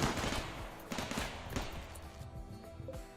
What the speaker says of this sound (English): Turn all these turrets on.